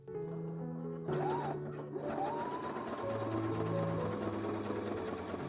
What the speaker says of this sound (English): So let's sew that on.